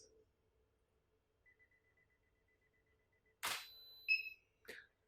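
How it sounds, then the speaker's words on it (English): A camera on a timed delay sounds faint intermittent timer beeps in a quiet room, followed by a crisp mechanical shutter release and mirror clack, then a short second clack. "the camera will do a little countdown like this"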